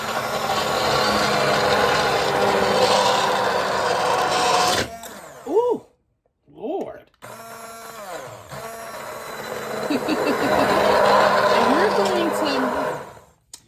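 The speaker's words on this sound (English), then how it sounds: "I'm going to come in here with our mixer" An electric immersion blender whirs loudly through creamy tomato soup, cutting out briefly in the middle before starting up again and running steadily to the end, with a woman's brief exclamations in between.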